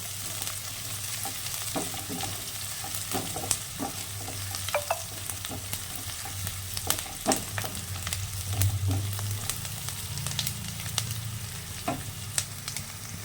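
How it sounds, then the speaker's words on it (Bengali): Onion and garlic frying in oil until reddened, a low steady sizzle with frequent stirring clicks and scrapes of a spoon in the pan, close and fairly quiet, no voices. "পেঁয়াজটা লাল করে ভাজা হয়েছে পেঁয়াজ আর রসুন"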